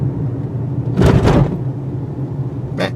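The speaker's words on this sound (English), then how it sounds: "Here's another speed bump. Let's do it a little faster." A 2016 Toyota hybrid SUV rolls over a speed bump at a slightly faster pace. A dull thump and rumble rise over the steady cabin hum, followed by a short rattle near the end.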